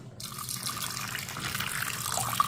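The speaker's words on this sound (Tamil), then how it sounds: "இதில் கொஞ்சம் தண்ணி ஊற்றிக்கிடுவோம்." Water is poured into a pressure cooker holding butter beans, a steady close splashing gush that starts abruptly and runs continuously.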